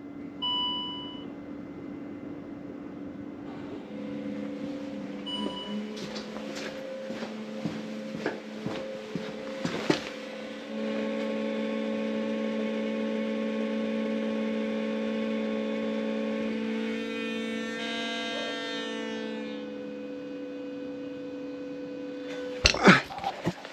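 Ignition switched on to prime the fuel system of a Land Rover Discovery 3/4 with a 2.7L TDV6 diesel after a fuel filter change: a steady electric pump hum runs for a long stretch with a few clicks, then stops.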